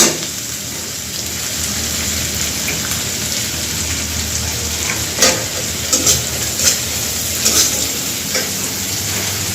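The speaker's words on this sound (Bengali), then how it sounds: "এদিকে মাছ ভোনার জন্য পেঁয়াজ ভুটতে দিয়েছি" Onions sizzling and frying in a pan for a fish dish in a home kitchen, a steady close crackle with occasional louder pops and stirring scrapes.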